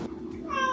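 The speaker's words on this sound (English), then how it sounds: "You're a cat." A cat lets out one short rising meow near the end, close and clear after a brief moment of quiet.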